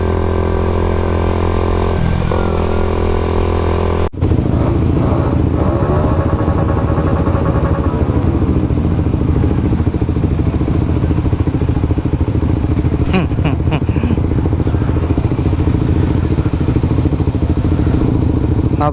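Big motorcycles with loud racing exhausts revving hard, a steady rumble that suddenly becomes a dense, loud roar with crackles and repeated throttle blips, heard up close with no voices.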